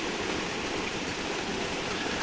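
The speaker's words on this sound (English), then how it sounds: "It's starting to rain kind of hard, loud, and I need to close that window." Heavy rain pours down just outside an open window, making a dense, steady hiss that holds at an even loudness throughout, with no voices.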